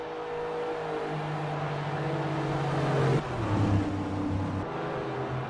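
NASCAR-style race cars at Indianapolis in Forza Motorsport 4 hold steady high revs, a droning engine whine that drops in pitch as a gear change or lift comes through, close and continuous with no talk.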